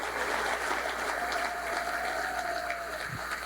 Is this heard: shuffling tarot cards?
no